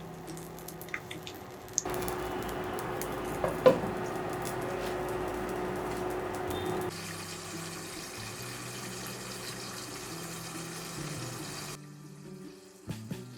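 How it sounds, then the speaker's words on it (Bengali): Two whole eggplants frying in hot oil under a lid give a steady, muffled sizzle and hiss that shifts in level a few times, with occasional small pops and a brief tapering at the end. "প্রথমে 2টা বেগুন গরম তেলে দিয়ে ঢাকনা দিয়ে ডেকে জাল করব 10 মিনিটের মতো।"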